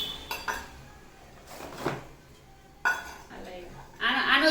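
A tray and dishes being handled in a home, with a few scattered clinks and knocks of crockery at moderate distance, while people talk quietly between the sounds.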